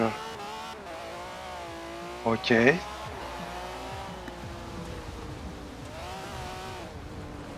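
A red Ferrari 575M in Forza Horizon 4 drives an off-road rally route, its engine droning steadily under continuous talk, with a brief sharp tire squeal cutting through midway.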